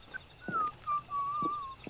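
Someone whistles a few short, wavering notes, close by and fairly faint, with soft thumps and background noise around them.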